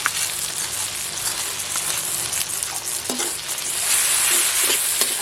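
A ginger, garlic and cumin paste sizzles and fries in a pan, with a constant crackle and occasional stirring scrapes, and the sizzle grows louder toward the end. No one speaks.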